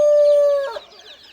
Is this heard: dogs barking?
no